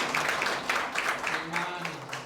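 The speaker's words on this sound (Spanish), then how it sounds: "un aplauso para ustedes también" A small church congregation gives brief, moderate applause to welcome guests, with rhythmic clapping bursts and some talk mixed in.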